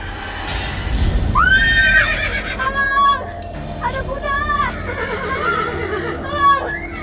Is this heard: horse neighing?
yes